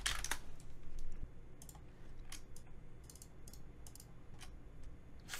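Rapid mouse clicks from applying materials in 3D modelling software, a run of sharp, close, dry taps in irregular bursts, some doubled, over a faint steady room hum with no talking.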